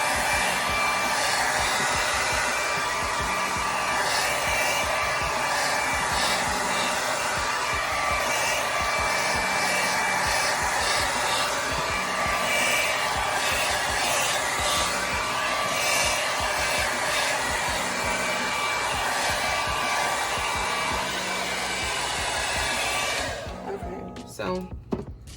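A hair dryer set to hot blows on a synthetic ponytail base, a loud steady whooshing drone held close for over twenty seconds, then cut off near the end with a few faint handling thumps.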